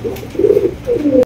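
A black Mundi pigeon gives a short, close coo in two throaty pulses.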